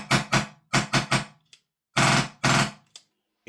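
An XM177 HPA airsoft gun fitted with a flash hider fires in quick bursts: paired and triple sharp cracks, then two longer rattling strings and a few isolated shots, loud and close with no talking.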